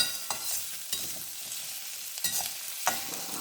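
Steady sizzling of food sautéing in oil for mutton keema gravy, with occasional stirring scrapes and clicks of a utensil against the pan.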